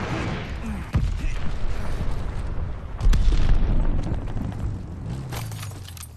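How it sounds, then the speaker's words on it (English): A glide bomb detonating in a Vanguard war game: heavy booming blasts with a sharp hit near one second and another surge near three seconds, rumbling debris continuing underneath. "Friendly, sending a glide bomb."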